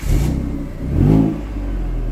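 A Renault Avantime with its 3-litre V6 accelerates close by, giving a deep engine roar that dips briefly and then swells into a strong rev before settling into a sustained drone.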